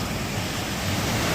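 Creek water rushes hard through a draw near the top of Mica on the Arizona Trail, snow still lingering nearby, a steady broadband roar filling the whole clip close and loud, with no talk over it.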